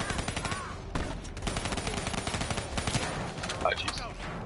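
Dense rapid gunfire and bursts from a Black Ops 3 co-op campaign, continuous automatic shooting with scattered impacts, loud and close, mixed with game voices and player chatter.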